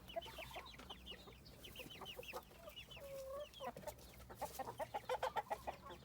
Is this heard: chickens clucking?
yes